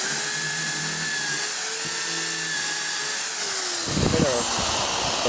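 A steady high-pitched drill whine runs throughout while drilling into scrap metal, with a brief grinding burst near the end as the bit bites in.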